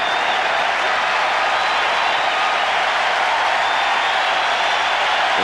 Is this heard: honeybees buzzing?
no